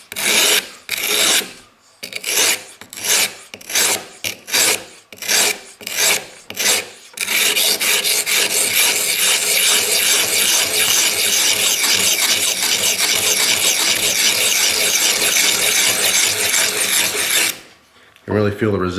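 A kitchen knife ground dry against an abrasive to take off its serrations: a run of short rasping strokes, then a long continuous close, loud scraping grind, stopping briefly near the end before resuming.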